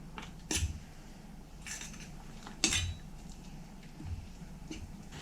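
A spoon stirs a boiling coconut-shred mixture in a metal pot, giving several sharp clinks and scrapes against the side at irregular intervals over a low background hiss.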